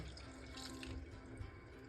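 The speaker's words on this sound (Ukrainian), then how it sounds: "Далі водою заливаємо огірки." Mineral water pours into a jar packed with cucumbers, a faint, steady splashing trickle.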